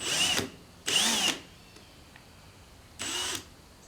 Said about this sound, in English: Drilling rubber things, the wipes that I'm making for the wheels.